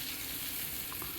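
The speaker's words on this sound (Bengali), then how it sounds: "পেঁয়াজটাকে একটু লাল লাল করে ভেজে নেব।" Chopped onion fries in a pan with a steady, close hiss and crackle of sizzling oil, even in loudness and brief, with no voices.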